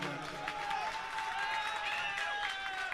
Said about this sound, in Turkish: alkışlayalım bu kardeşimiz ürəkdən